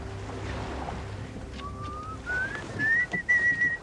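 A person whistles a short rising tune aboard a ship, the notes clear and fairly close, over a low rumbling background.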